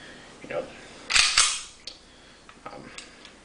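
A CZ-52 pistol fires a single 7.62x25 round outdoors. One sharp crack is followed by a brief echo and some quieter mechanical clicks.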